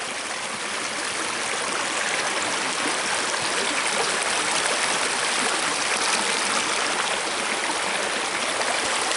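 A stream running deeper than usual pours steadily past, a close, continuous broadband rush of water with no pauses and no voices.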